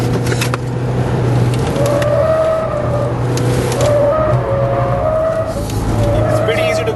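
Mahindra XUV500 sliding its rear out on the BIC F1 track, steady engine drone with bursts of tire squeal, while someone talks over it throughout.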